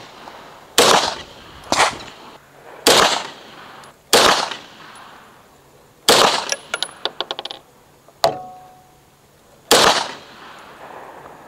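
Federal 115gr 9mm FMJ rounds are fired one at a time from a Beretta 92X clamped in a Ransom Rest at an outdoor range. Sharp, loud reports come at irregular intervals, with faint metallic clinks between some of them.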